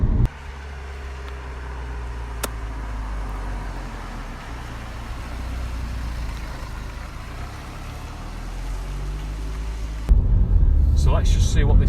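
Steady low rumble of road and engine noise inside a Mini Paceman Cooper SD cruising on smooth tarmac, a continuous moderate drone that shifts to rougher, louder noise near the end.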